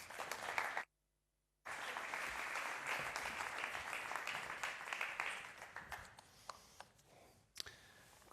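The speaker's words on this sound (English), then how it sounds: "Big applause." Sustained applause from a large audience at a higher-education report presentation, a broad steady wash of many hands clapping with a brief dropout early on, thinning to scattered claps toward the end.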